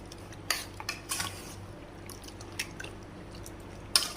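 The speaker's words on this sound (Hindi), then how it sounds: "इन सारी चीज़ों को अच्छे से मिक्स करेंगे।" Chicken and biryani ingredients being mixed in a pot, faint scattered clinks and scrapes of a spoon against metal at an irregular pace.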